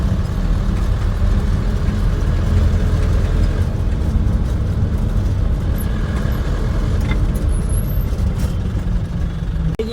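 Steady road traffic on the Sanand–Viramgam highway, a continuous loud wash of passing cars and heavy vehicles with a low engine rumble that holds without break for the whole stretch.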